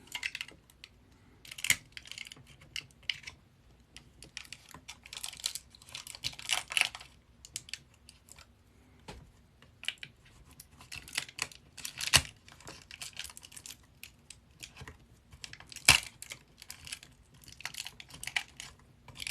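A pencil pressing guitar build material down in a live build session, producing scattered small crinkling and crackling ticks that come in irregular bursts, close and fairly quiet, with no talking.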